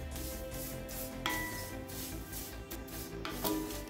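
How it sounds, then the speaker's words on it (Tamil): Vermicelli roasting in oil in a kadai gives a steady, close scraping and rustling texture, with occasional sharper scrapes from stirring, continuing without speech. "சேமியா இப்போ நல்ல கலர் மாறுற வரைக்கும் வறுத்துக்கலாங்க."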